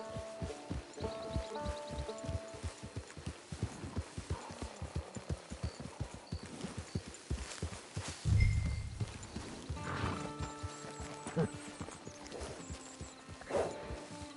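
Horse hooves clip-clop in a steady, fairly quick rhythm in Red Dead Redemption 2 Online, moderately loud over a background of game music, with a heavier thump partway through.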